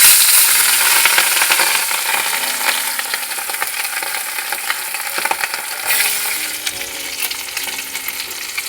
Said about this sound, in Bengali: মাছগুলো ভালো করে লাল লাল করে ভেজে নেব।